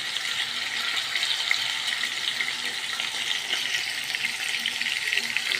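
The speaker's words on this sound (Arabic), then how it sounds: "حطيت فصين توم مهروسين مع السمنه والزيت" Crushed garlic fries in ghee and oil in a pan, giving a continuous, even crackling sizzle that stays close and fairly soft throughout.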